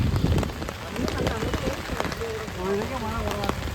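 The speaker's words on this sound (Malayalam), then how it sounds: "ഓ, അന്യായ മഴയാണ് ഗൈസ്." Heavy rain pours down during the elephant feeding at Vadakkumnathan temple, a dense, steady hiss that fills the whole clip while people talk nearby.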